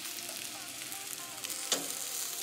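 A veggie omelette with cheese sizzles softly in a pan as it is flipped over onto itself, a steady faint frying hiss with one brief scrape or clatter near the end.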